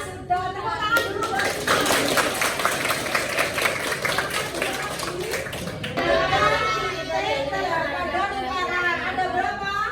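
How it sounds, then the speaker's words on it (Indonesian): Children clap their hands together in a classroom, a dense burst of many small hands lasting several seconds, loud and close, with chatter and a teacher's voice mixed in. "tepuk tangan dulu"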